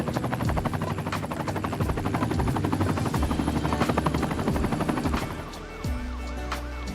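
Helicopter in the city-building game Cities Skylines, a steady rhythmic rotor chop with engine whine running loud and continuous, dipping briefly near the end, with no talking over it.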